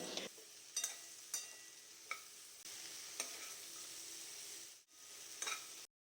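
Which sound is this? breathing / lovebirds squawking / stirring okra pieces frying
stirring okra pieces frying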